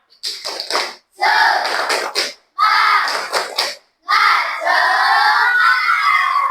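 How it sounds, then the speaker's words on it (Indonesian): Primary school class performing a rhythmic spirit clap chant, bursts of unison clapping and shouted syllables in four phrases separated by short pauses, loud and close. "Ya, tepuk semangat."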